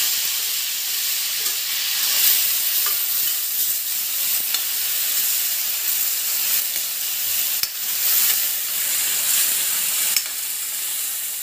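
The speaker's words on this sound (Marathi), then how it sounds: "त्याच्यामध्ये हिरवी मिरची, कांदा, टोमॅटो याचं वाटण टाकून घेते मी." Ground green chili, onion and tomato paste fries in hot oil, producing a loud, continuous hissing sizzle that holds steady throughout, with a few faint knocks, close to the pan and without speech.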